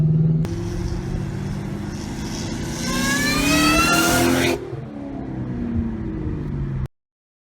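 A 600 hp 2003 Mustang Cobra pulls hard in a loud, close roar, engine pitch climbing steadily through the revs before a shift, then dropping and cutting off abruptly.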